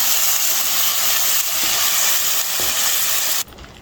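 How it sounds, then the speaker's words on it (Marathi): Masala spice paste frying in hot oil, a loud dense sizzling hiss close up with faint stirring, holding steady before cutting off abruptly near the end. "हा मसाला छान परतून घेणार होता. तेल सुटेपर्यंत टाकायचा हा मसाला."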